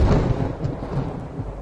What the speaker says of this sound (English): Goddamn thunder.